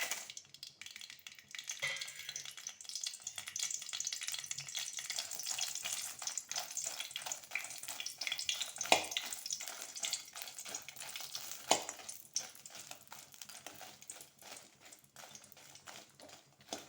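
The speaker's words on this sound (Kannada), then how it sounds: "ಇದು ಚೆನ್ನಾಗಿ ಫ್ರೈ ಆಗಬೇಕು ಮೆಣಸು." Two Byadgi chillies frying in coconut oil for a Mangalore-style yam and chickpea gassi, giving a steady close crackling sizzle with occasional sharper pops and stirring clicks, continuous and without voices.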